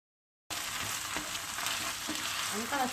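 Rice stirred into a pan of hot paste for Turkish stuffed vine leaves in olive oil sizzles steadily after a short silence, with light stirring scrapes over the continuous close frying hiss.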